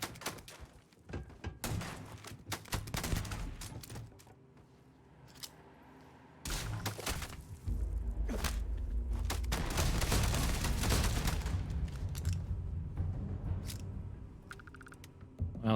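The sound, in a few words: gunfire in video game Starfield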